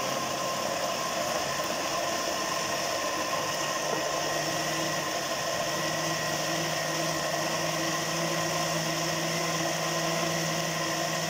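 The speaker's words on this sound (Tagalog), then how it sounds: "Aking biniblender na po yung tomato." An electric blender purees cooked tomatoes for homemade tomato sauce, its motor giving a steady, continuous whirring hum that holds at an even level throughout, with no talking.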